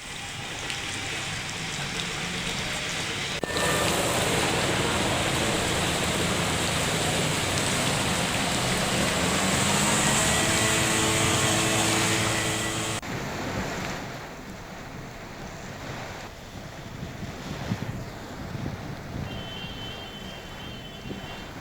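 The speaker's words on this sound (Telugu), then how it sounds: "బలమైన ఈదురుగాలులు వీస్తున్నాయి సముద్రంలో అలలు ఉవ్వెత్తున ఎగిసిపడుతున్నాయి" Cyclone Phethai batters the Andhra coast near Kakinada and Yanam, with gusty winds and heavy rain roaring over rough sea waves in a dense, loud wash that eases somewhat in the latter part.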